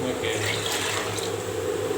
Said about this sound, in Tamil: இன்னொரு சொம்பு ஒரு சொம்பு தண்ணி அதில் ஊற்றிக்கிறேன்